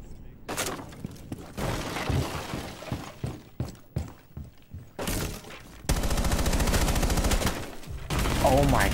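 Rapid bursts of automatic gunfire and single shots crack through a first-person video game shootout, loud and close, with short gaps between volleys before a sustained stretch of heavy, continuous firing near the end.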